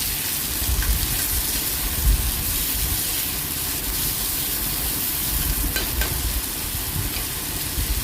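Onions and tomatoes fry together in a pan, giving a dense, continuous hiss and crackle, loud and steady throughout, close up with no talking.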